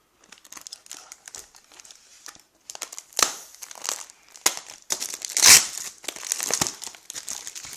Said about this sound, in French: Voilà, on va le déballer ensemble.